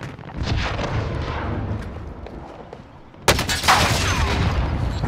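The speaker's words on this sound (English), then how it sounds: "Dude, I just destroyed a guy with an RPG" An RPG rocket explodes in Call of Duty: Warzone with a sudden, loud blast that rumbles and crackles for a couple of seconds, after a stretch of softer distant battle noise and no talking.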